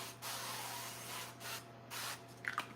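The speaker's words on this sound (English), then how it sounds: "let's go ahead and spray our casserole pan" Several short bursts of aerosol spray hiss close by, with brief pauses between them and a light clatter at the end.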